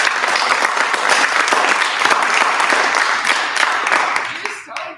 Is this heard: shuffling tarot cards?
no